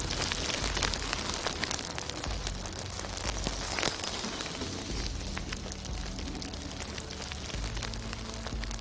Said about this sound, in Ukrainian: Це шум дощу.